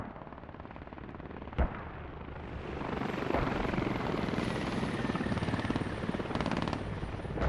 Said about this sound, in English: Is this a helicopter battle?